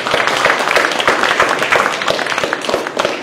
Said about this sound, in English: round of applause to all our panel here.